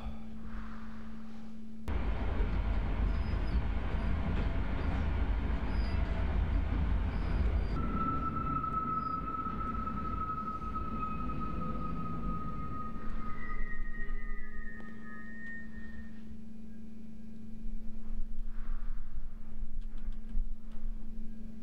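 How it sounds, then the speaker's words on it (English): A train rolls along in a video game, with a continuous low rumble and clatter that holds for about twenty seconds. Faint sustained mechanical tones, like squealing wheels or brakes, rise partway through. "Oh, great, another train."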